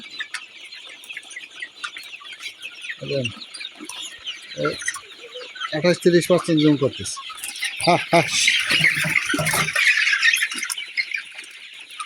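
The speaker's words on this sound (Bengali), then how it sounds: "এই দেখেন আমার মুরগি, দেখেন মুরগি একটু দেই" Sonali chickens on a Bangladeshi poultry farm cluck and squawk close by in busy bursts. The calls grow louder toward the middle, with a shrill high chorus behind them and someone speaking briefly.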